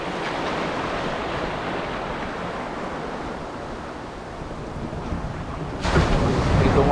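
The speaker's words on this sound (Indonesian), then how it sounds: "Itu ombak nih." Ocean waves wash and roar steadily at sea beside a sport-fishing boat, a broad continuous rush with wind buffeting the microphone, swelling louder near the end as a larger wave arrives.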